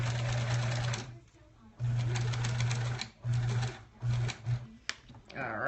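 A sewing machine pieces together a quilt block for a sampler quilt in several short bursts of close, steady whirring, the stitching runs getting shorter and separated by brief pauses.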